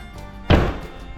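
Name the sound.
door being pushed shut but not closing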